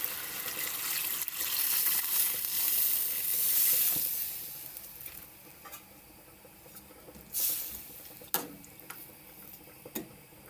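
A strong hiss and rush as water pours into a hot pot of Jamaican curry chicken foot, fading to a softer simmer with scattered clicks and taps.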